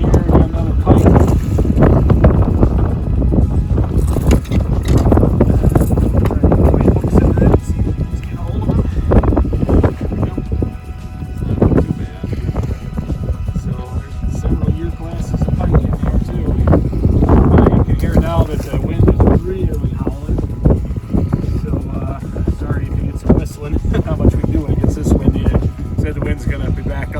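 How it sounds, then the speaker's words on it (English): Strong wind buffets the microphone on the open water of a shallow prairie lake while a boat trolls for walleye and pike, a loud continuous roar with gusts throughout and no clear voices. "So we're on the windy side of the lake"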